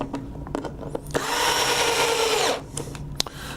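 A Hitachi power screwdriver with its torque set around 15 whirs in one steady burst of a little over a second while driving a screw into a circuit-board housing, bracketed by small clicks and handling knocks.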